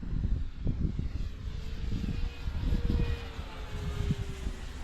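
A FlightLine Spitfire 1600mm RC model plane flies overhead, its propeller engine giving a faint, steady drone with a slight pitch glide over outdoor wind noise and rustle.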